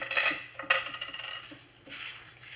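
Keys and coins are emptied from pockets onto a table: a quick scatter of metallic clinks and jingles, close and bright, trailing into a few lighter taps.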